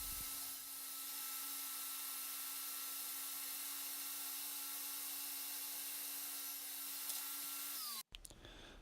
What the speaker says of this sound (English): I'm going to be cutting the dowels that we just drilled the holes for in the walnut base.